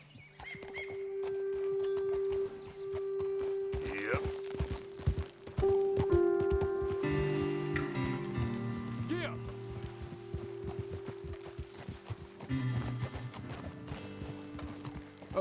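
Horses' hooves clip-clopping in Red Dead Redemption 2, a steady trot on a path mixed with tack and gear rattles, a whinny and a sustained musical score, with voices talking over it.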